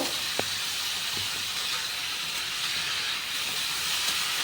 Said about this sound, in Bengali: গ্যাসের আঁচটাকে জোরে রেখেই আমি বেশ ভালো করে আলুর সাথে শাকটা মিশিয়ে নেব